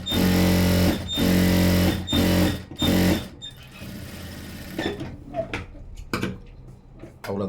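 A sewing machine stitches a blouse seam in four quick, loud bursts of steady whirring, each stopping and starting, followed by quieter handling clatter and light knocks.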